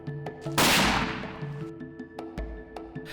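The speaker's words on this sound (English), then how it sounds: "The shot rang out loudly into the African sky" A rifle shot fired at a bull on an African hunt: one loud, sharp blast followed by a long decaying rumble, with a fainter thump a moment later.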